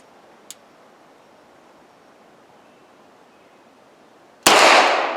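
A single loud, sharp report from a Beretta 92FSR pistol fired in double action cracks near the end after quiet, with a small click earlier and a decaying echo.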